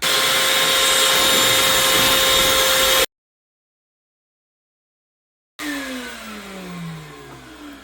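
An interior door being bored out for a deadbolt hole while a small shop vac runs beside it. A loud, steady drill-and-vacuum roar cuts off abruptly, then after a short silence a whining motor returns and slowly winds down.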